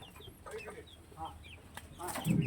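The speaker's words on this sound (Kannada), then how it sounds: "ಇಲ್ಲಿ ಚಿಕ್ಕ ಚಿಕ್ಕ ಕ್ವೇಲ್ ಬರ್ಡ್ಸ್ ಇದು" Small quail birds on a farm give short, high chirping calls close by, scattered across the moment with soft clucking and rustling underneath.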